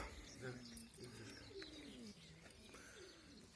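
Racing pigeons coo softly and repeatedly as they return from a race, overlapping low throaty calls with occasional wing flutters in the background.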